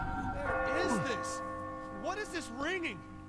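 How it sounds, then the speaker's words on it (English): A sustained ringing bell tone from the video game Catherine, holding steady under a player's excited talking. "Why is there a bell ring?"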